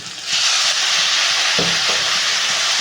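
Chilli, turmeric and salt fry in a pan with a loud, steady sizzle and hiss throughout, broken by a couple of brief scraping or stirring knocks near the middle.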